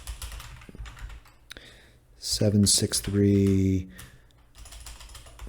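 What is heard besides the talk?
typing on a computer keyboard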